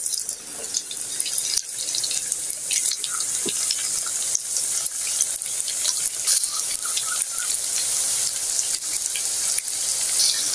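Chicken samosas frying in hot oil, a steady bright sizzling hiss with scattered small pops and crackles throughout, continuous and close.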